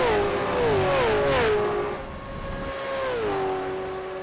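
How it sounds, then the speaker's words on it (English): A V8 Supercar in the iRacing video game revs loudly, its engine pitch climbing and dropping through gear changes, then settling into a steady drone before rising again. "I'm trying to listen to Mariah's car at the moment"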